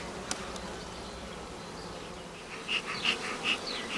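Honeybees hum steadily at an Ukrainian-Alpine hive during spring nest expansion, with a close, continuous drone and a few louder buzzing passes near the end.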